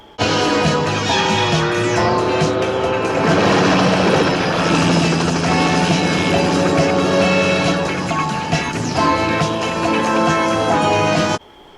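A helicopter roars loud and continuous through a James Bond movie car chase action scene, its rotor din thick with crashing impacts and blended with orchestral score for nearly twelve seconds.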